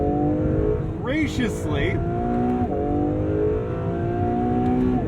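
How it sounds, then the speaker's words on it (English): Acura NSX Type S V6 engine holding a steady sustained note with tire noise rumbling underneath, a smooth mid-pitched drone from inside the car, with a short burst of speech over it partway through. "above the sound of those tires is a pleasant V6 note"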